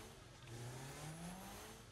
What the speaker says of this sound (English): Someone's left the engine running in that fire engine.